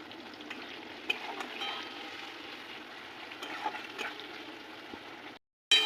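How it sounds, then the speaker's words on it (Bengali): Chopped onions fry in oil in a pan, a steady soft sizzle with occasional light clicks from stirring, cut off abruptly near the end by a brief louder noise. "তারপর দেবো পেঁয়াজ কুচি। তা পেঁয়াজটা সামান্য ভাজা ভাজা হয়ে আসবে"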